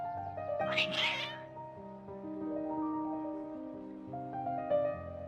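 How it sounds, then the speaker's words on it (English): Cats in a video game meow over a soft musical background, one loud drawn-out meow near the start followed by fainter mewing. "Your cats seem pretty worked up."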